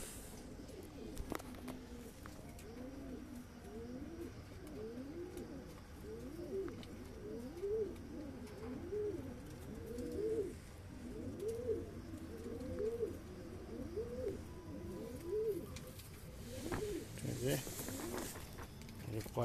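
A pigeon coos in a repeated rhythmic series close by, soft and steady, with faint background noise and occasional voices.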